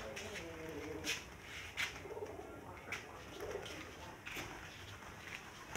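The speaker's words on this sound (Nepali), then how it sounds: "परेवा पनि छ" Pigeons coo softly at a farm building in Nepal, several low rolling calls repeating at irregular intervals against a quiet background.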